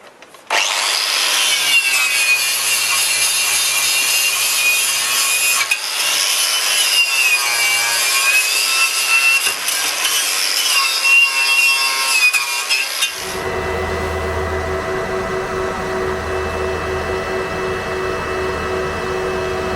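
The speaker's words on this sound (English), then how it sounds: "we'll start with a wire brush and then clean around with a sander" A wire brush and then a sander work over rusty trailer steel, a loud continuous abrasive scrubbing and rasping for about thirteen seconds, then a lower steady mechanical hum carries on alone.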